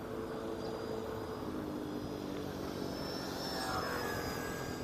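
RC trainer airplane flying overhead and banking through turns, a steady buzzing propeller engine drone that shifts pitch as it turns, continuous and moderately distant, with wind noise underneath.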